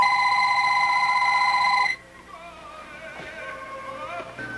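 A telephone bell rings loudly and steadily for about two seconds, then cuts off, leaving faint room noise and a few soft thumps.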